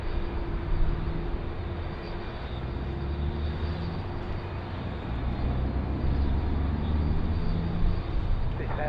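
A Dash 8 turboprop arriving from Canberra and landing on the left runway at Sydney Airport, a steady distant drone of engine and airframe noise that slowly swells across the clip over broad background rumble.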